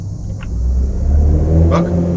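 A car engine in the City Car Driving game rumbles and revs up steadily as gears are changed, loud and close, with a brief higher whine near the end.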